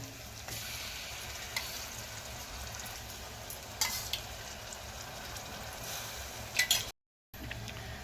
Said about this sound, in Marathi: तर थोडं परतून वगैरे मस्त आपल्याला ग्रेव्ही बनवायची